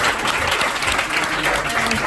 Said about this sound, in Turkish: Arkadaşlar bir alkış alın